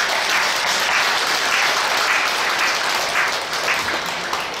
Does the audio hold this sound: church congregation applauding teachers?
yes